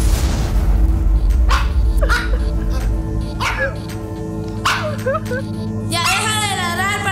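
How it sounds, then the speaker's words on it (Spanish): A dog barks indoors during a family argument, giving several sharp, spaced barks over a low background hum, followed by a higher wavering whine at the end. "¡Ya deja de ladrar"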